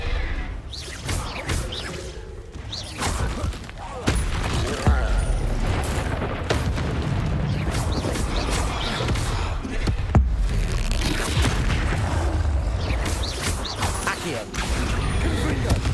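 Spell blasts in Hogwarts Legacy boom and crash one after another in dense, continuous combat noise. A voice calls out spell names over the explosions.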